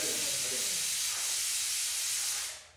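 A pressure cooker cooking rice vents steam in a loud, continuous hiss that holds steady and then fades out near the end.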